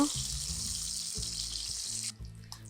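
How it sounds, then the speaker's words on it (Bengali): Eggs coated with turmeric, chili and salt frying in a pan, giving a steady, loud hiss and sizzle with a low rumble beneath, which cuts out abruptly near the end before a softer sizzle resumes. "হালকা একটু ভেজে নেব।"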